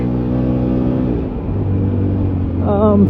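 Engine of a Can-Am Maverick Max 1000R side-by-side in low range, a steady close rumble that climbs and revs higher near the end.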